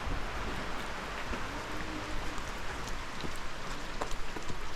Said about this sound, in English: Right now it is just raining.